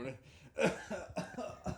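A person coughs a few times amid casual podcast chatter, short rough bursts close to the microphone, fairly quiet and mixed with breathing and voices.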